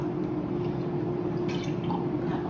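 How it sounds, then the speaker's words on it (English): A steady stream of milk pours continuously into a measuring cup, a smooth, even splashing with a low gurgle and no voices. "We'll pour the milk."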